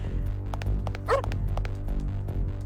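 A dog in the Parasite Eve video game gives a single short bark amid a steady droning game soundtrack.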